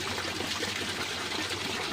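Water rushes out through the opened valve of a fish pond filter, a steady, close, full-bodied gush with no break.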